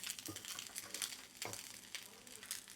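Chopped carrots are stirred into leftover pulao frying in a pan: a soft continuous sizzle with a couple of low scraping spatula strokes, close and quiet.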